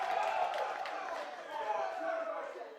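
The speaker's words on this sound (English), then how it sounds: "I love this crowd here. They're just hyped up." Esports arena crowd at an ELEAGUE Counter-Strike match between Cloud9 and Renegades on Cobblestone, a faint, distant wash of cheering and whooping that swells and settles throughout.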